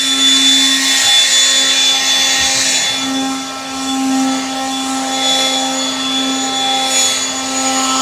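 Worx battery leaf blower running steadily close by, a loud constant whooshing roar with a fixed motor whine and slight swells in airflow, with no talking.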